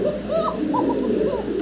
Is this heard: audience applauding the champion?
no